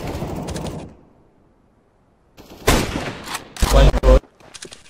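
Gunfire in a shooter video game, including an AWP sniper rifle, cracks out in a few loud, sharp bursts after a short lull, close and punchy, with a voice speaking over part of it.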